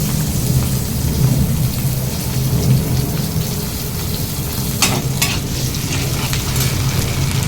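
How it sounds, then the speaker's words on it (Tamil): Tomato sautéing in a pan with onion for cauliflower fry, a loud continuous sizzle and crackle close up, with occasional sharp clinks of a spoon stirring the pan, no voices. "தக்காளியும் நல்லா வதங்கட்டும்"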